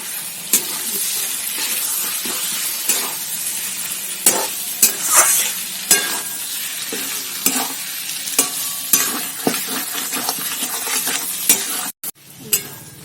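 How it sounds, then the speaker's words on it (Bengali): A spoon scrapes and clinks around a cooking pan, stirring cinnamon and garam masala into chicken, with sizzling underneath and irregular sharp knocks throughout. "এবার এটা দিয়ে আমি নাড়িয়ে দেব"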